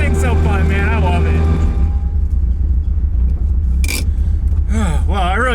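Engine of a Toyota AE86 on a drive, a steady low rumble throughout with a voice over it at first, then a brief sharp burst and rising engine sweeps near the end.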